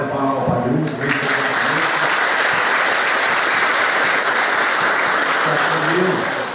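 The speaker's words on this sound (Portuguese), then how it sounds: "Uma salva de palmas ao Padre" Dense, loud applause fills a church hall for a priest at a family reunion celebration, sustained and even throughout, with a voice speaking briefly at the start before the clapping swells.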